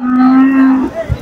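A heavy cow at the Chintamani cattle market gives one loud, drawn-out moo close by, ending abruptly, with no voices.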